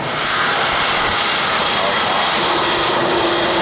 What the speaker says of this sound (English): Oh, I think it's just engine exhalation.